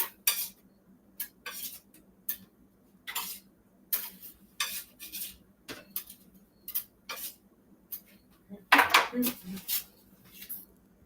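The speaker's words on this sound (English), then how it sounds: "let's take the pancakes off the griddle now" A spatula scrapes and taps against a griddle as buckwheat pancakes are lifted off, a series of short sharp metallic clicks spaced irregularly, close and fairly quiet, with one louder clatter near the end.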